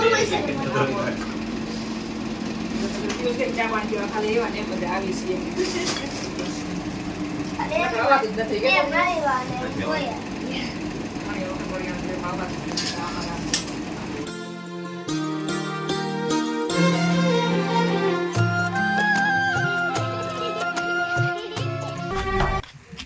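A tractor engine runs with a steady, buzzing drone at a farm in Galla village, heard under people talking, with the sound turning more tonal and clattering toward the end.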